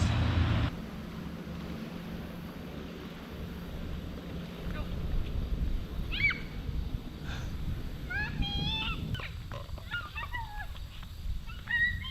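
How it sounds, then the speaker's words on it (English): Low, steady engine rumble of large boats on the Illinois River, with wind noise and some distant honking birds calling through the middle and end. "There's a lot of boats on the Illinois River today."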